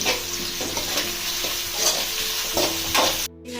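Food fries in a pan over a medium flame, giving a continuous close sizzle with rhythmic scraping strokes of stirring throughout, then a sharp cut near the end.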